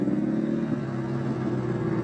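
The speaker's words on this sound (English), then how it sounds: "if I pull in the clutch, it's going to be exactly like a 2-stroke to where there's no engine braking" A dirt bike engine runs steadily with the clutch pulled in, giving a continuous low rumble and buzzy drone that stays at an even level throughout.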